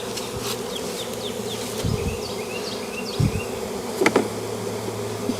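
A honey bee swarm buzzes densely around a hive box outdoors, a constant high drone with individual bees whizzing past close by and a few soft bumps and knocks nearby.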